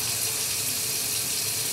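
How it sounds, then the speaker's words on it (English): Water runs from a bathroom tap while getting ready to brush teeth, a steady, even hiss of flowing water with no break and no voices. "turn your water on"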